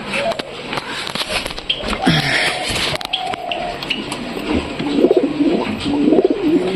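Pigeons coo inside their loft, low and close, mixed with rustling, wing movement and shuffling sounds, with some faint talking in the background.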